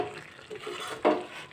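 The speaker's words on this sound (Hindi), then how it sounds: "धनिया पत्ता डाल के हम इसे मिला लेंगे। तो इसे हम मिला लेते हैं" Aloo parwal curry stirred with freshly added coriander leaves in a pan off the heat, a soft scraping and gentle sizzle with one louder clatter of the spoon against the pan partway through.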